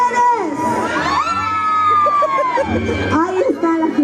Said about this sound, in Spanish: Un grito bien fuerte a las mujeres.